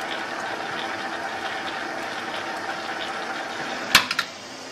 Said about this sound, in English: We'll put it into three, pull down on the clutch, and off it goes.